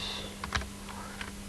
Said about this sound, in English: Now, I might want to type in a species of fish